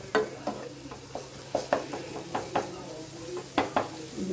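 Maggi noodles and spices being semi-roasted in a pan: a spoon scrapes and taps against the metal in an irregular rhythm over a faint, steady sizzle, close and moderately quiet, with no talking.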